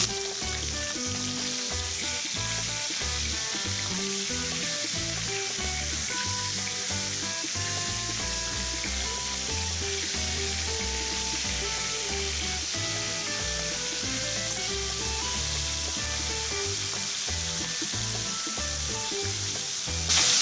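Pieces of silver carp fish frying in hot oil in a pan, a steady dense sizzle with constant bubbling and crackle throughout, close and loud, with no voices over it.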